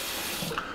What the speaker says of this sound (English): There's water with good pressure.